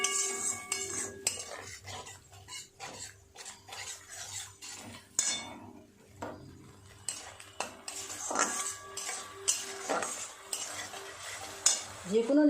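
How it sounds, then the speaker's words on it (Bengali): Spice paste for a vegetarian dhokar dalna is stirred in a pan. A spatula scrapes and knocks against the metal in irregular strokes over a soft sizzle, with a few sharper clinks. "ভালো করে মশলাটা কষিয়ে নেব।"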